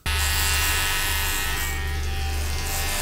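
An electric razor shaving a head buzzes steadily and loudly up close, a continuous droning hum with slight shifts as it moves over the head.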